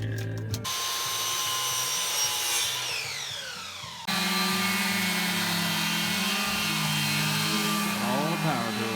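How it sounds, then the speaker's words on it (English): Power tools cut wood during a Sprinter T1N van build, with the high whine of a saw or drill starting, winding down, then roaring again steadily, loud and close with brief talk near the start. "All the power tools."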